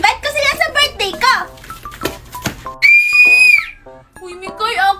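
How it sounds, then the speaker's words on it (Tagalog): A child blows a toy whistle in one long, shrill, steady blast, set between stretches of children's excited chatter that surround it. "Kanina ka pa nagpipito."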